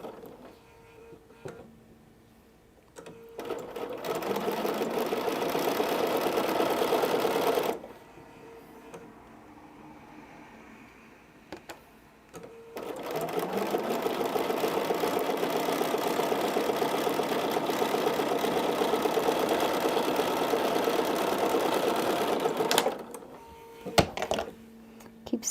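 A domestic sewing machine with an automatic thread cutter stitches a Christmas quilt in two long, steady whirring runs separated by a pause, with brief clicks and handling noises between them.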